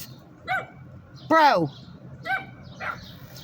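Puppies yip and bark in short, high bursts, about four spaced calls with one longer whining bark in the middle, fairly close, with a person speaking briefly.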